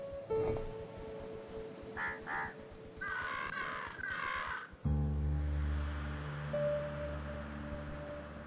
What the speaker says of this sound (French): Peuple des corneilles qui est totalement bruyant tout de même.